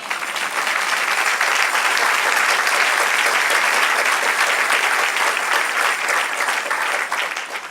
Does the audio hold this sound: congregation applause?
yes